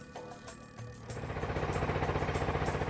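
Kelotok motorboat engine running on the Riam Kanan river, a steady rapid chugging that builds from a quieter start into a loud, continuous pulsing drone close by, with no voices.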